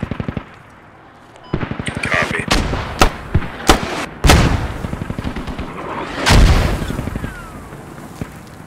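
Artillery and heavy gunfire in the Squad military game, with sharp booming impacts and bursts of rapid automatic fire spread across a busy battlefield, some blasts loud and close, others more distant.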